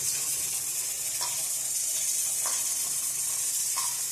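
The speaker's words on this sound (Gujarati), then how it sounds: "આપણી ચાપડીને આપણે ધીરે ગેસે તળાવવા દેવાની" Chapdi, a Gujarati fried dough bread, frying slowly in oil over a low gas flame, giving a steady close-up sizzling hiss with a few faint soft clicks and no voices.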